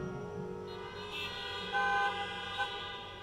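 A lecture audience imitates car horns with their voices, producing overlapping sustained honking tones that swell and fade over a few seconds, with no speech.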